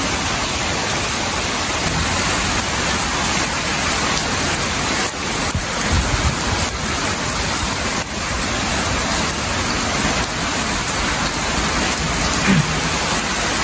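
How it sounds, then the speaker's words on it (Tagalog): Steady rain falls in Japan, a dense continuous wash of drops on surfaces, fairly loud and close, with no voices. "Today, the raindrop is falling down,"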